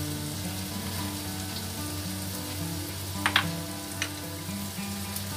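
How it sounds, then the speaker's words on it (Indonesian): Shallots frying in a pan for a tofu stir-fry, a continuous sizzle with a low steady hum beneath and a couple of brief stirring clinks, no voices. "Ini kita aduk sampai bawang agak mulai wangi."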